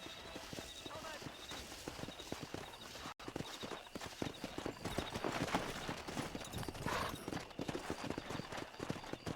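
Galloping horse hooves in the Western video game Red Dead Redemption, a steady rapid clip-clop beat running the whole time, with a brief horse whinny and people talking over it.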